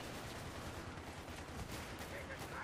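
Heavy machine gun in Battlefield 3 firing continuously down a hallway, a dense, steady burst of rapid shots with no pause, fairly loud and filling the whole stretch.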